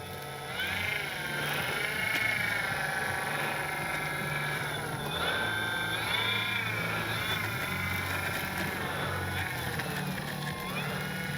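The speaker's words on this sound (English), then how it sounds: "This sounds like something's catching in the cowl." An electric motor on an FMS P-47 Thunderbolt RC plane whines with shifting pitch while something catches in the cowl, giving a rough bleating rasp over steady engine tones, close and continuous.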